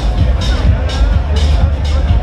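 Dense crowd hubbub at the Cuba Dupa street festival in Wellington, New Zealand: a steady, close wash of many overlapping voices and general babble, loud and continuous with no single speaker standing out.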